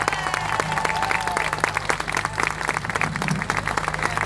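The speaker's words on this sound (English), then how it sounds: "Come on, a big round of applause on that." Outdoor crowd applause at a Race for Life charity event in Norwich, a lively mix of close, sharp hand claps over a broad clapping wash that holds strong for the whole stretch.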